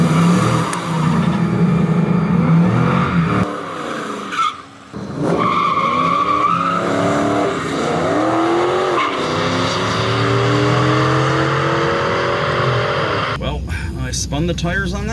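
A stock Trans Am launches hard at a drag strip, the engine revving loudly with squealing, spinning tires and rising gear pulls across the run, a brief dip midway, with faint voices in the background.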